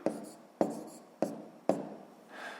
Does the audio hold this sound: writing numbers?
yes